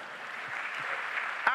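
Brief, soft, continuous applause from a church evening gathering, a sustained wash with one sharper clap near the end.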